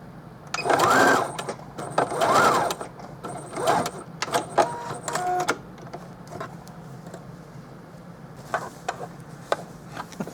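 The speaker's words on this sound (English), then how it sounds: "Do a little back stitch." A sewing machine back-stitches through Dollar Tree placemats being sewn into a Christmas stocking: several close, loud whirring bursts of stitching, each a second or two long, separated by short pauses, then fainter handling clicks.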